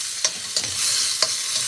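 Shrimp sizzles loudly in a hot wok for pad see ew, with three sharp scraping strokes of a spatula over a continuous fry.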